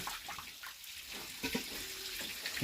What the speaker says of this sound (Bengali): ঘরের ভেতর জল দেয়া হচ্ছে